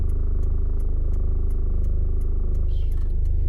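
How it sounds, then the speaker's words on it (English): A car's engine idles and vibrates while stopped partway through a three-point turn, producing a steady, loud low rumble with a regular pulsing rattle throughout, close up and without speech. "This car is vibrating."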